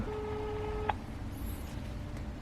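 A phone call placed from a Samsung Galaxy Active 2 smartwatch gives a steady electronic tone that ends in a short sharp beep, then gives way to quiet background hiss.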